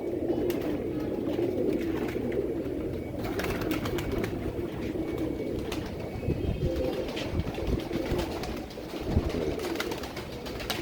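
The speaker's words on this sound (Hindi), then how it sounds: "ये नईम भट्टी साहब के कबूतर हैं माशाल्लाह से।" Tiger-breed pigeons cooing in a loft, a steady low murmur of several birds layered together with rustling and faint background noise, no speech.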